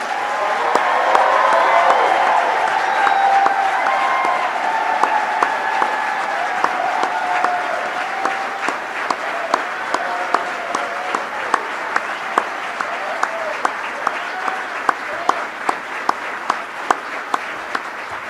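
An audience at a presidential speech to historically Black colleges and universities applauds scholarship students, loud dense clapping with some cheering at first, then thinning into scattered, distinct claps that continue steadily.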